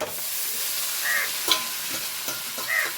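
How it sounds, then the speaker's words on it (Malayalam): Dried red chillies and curry leaves sizzle in hot oil while being stirred in a pan, a soft steady crackle with a few scraping strokes and light clinks of the spoon, no voices. "ഇനി ഇതിലേക്ക് ഞാൻ വറ്റൽമുളകാണ് ഇട്ട് കൊടുക്കുന്ന കരിവേപ്പില ഇളക്കി കൊടുക്കാട്ടോ"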